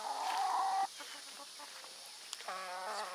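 A hen clucks nearby in a farmyard pen: one loud drawn-out cluck, then quieter scattered clucks and a final run of clucking, with no voices.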